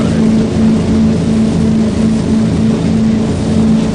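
A motorboat engine roars steadily and loudly throughout, a continuous low droning hum with a strong tonal pitch and no break or pause.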